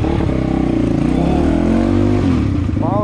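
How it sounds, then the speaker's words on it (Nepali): Crossfire XZ250RR dirt bike engine running under load while riding in Nepal, a steady loud mid-pitched drone with rising revs near the end, close and continuous with no talk over it. "पावर छ यार दाइको बाइकमा"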